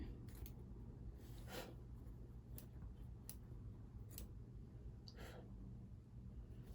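Scissors trim fabric and thread on a black machine embroidery project, giving a few faint, quiet snips spaced over a low steady background hum.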